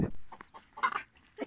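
A rooster at a poultry trader's, giving short, scattered clucks, close and moderately loud, with brief gaps between calls.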